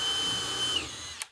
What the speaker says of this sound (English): I'm going to drill through right now.